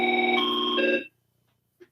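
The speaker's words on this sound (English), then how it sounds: "You can hear that line is ringing." A fire-damaged telephone plays a ringback tone on a ringing line: one steady electronic ring of about a second, then silence with a faint click.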